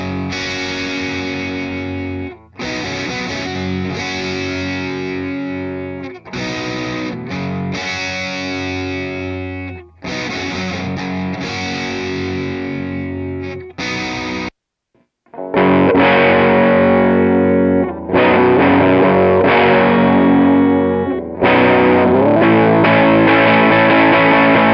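An electric guitar with an orange finish, heard before modifications, plays loud, distorted, effects-laden phrases and chords in sustained sections with short breaks between them.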